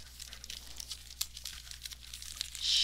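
A Pokemon card pack is opened with close, crinkly foil rustling and small tearing crackles, ending in a louder burst of crinkling.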